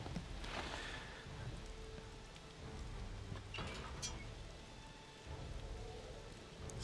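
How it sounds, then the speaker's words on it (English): Steady rain falls outside the castle gates in the video game Shadowgate, a soft, continuous hiss with faint scattered patters and no voices. "Smells like rain to me. Oh yeah, it's rain."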